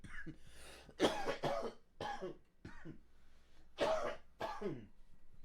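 A series of harsh, throaty coughs in bursts, close and fairly loud, with short gaps between them.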